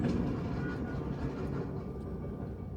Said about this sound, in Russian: Вот едет маленький составчик.